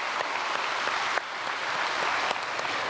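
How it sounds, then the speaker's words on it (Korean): Congregation in a church applauding steadily, a dense and even roar of many hands that continues loud throughout with no pause. "우리 박수로 축복해 주시면 감사하겠습니다"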